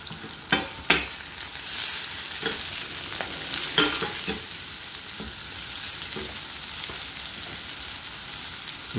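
Butter sizzles in a pan as vegetable rice pilaf is stirred, a steady close frying crackle broken by scraping stirs and a few sharp clacks of the utensil against the pan, with no talking.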